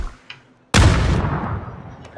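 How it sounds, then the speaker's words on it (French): A grenade explodes in PUBG with a sudden loud boom after a short quiet stretch with a faint click, then a rumbling tail that fades over a second or so. "Je lance des grenades."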